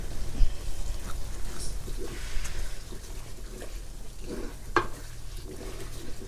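Masala spice mix cooks in a pan and is stirred, with scraping strokes and a soft sizzle close by, plus a brief sharp clink midway.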